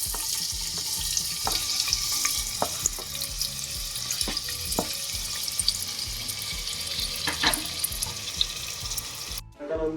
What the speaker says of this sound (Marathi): तेल आता छान गरम झालंय तर तेलामध्ये आपण हा बारीक चिरलेला एक कांदा टाकून घेऊयात